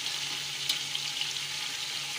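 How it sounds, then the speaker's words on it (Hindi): Chicken fries with garlic-ginger paste and garam masala for a chicken pulao, giving a soft, continuous sizzle with faint ticks of stirring, fairly quiet and without talk. "चिकन को अच्छी तरह फ्राई करेंगे।"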